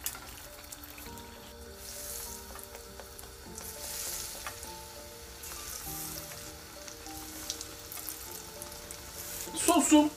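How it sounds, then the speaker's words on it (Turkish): Eggplant frying in hot oil for a Turkish beer meze, a steady dense sizzle and crackle throughout with a brief louder spatter near the end. "Bittikçe kızartıp yapacağım."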